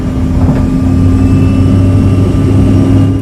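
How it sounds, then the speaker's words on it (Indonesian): A passenger airliner on its takeoff run, a loud, steady, continuous engine roar with a constant tonal hum running through it. No voices are heard. "pesawat Trailblazer penerbangan 199 yang dipimpin pilot Kapten Toren dan kopilot Samuel Dele pun siap lepas landas."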